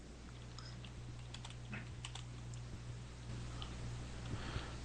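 Keys tapping on a computer keyboard in a quiet room, a fairly steady run of faint, soft clicks over a low steady hum.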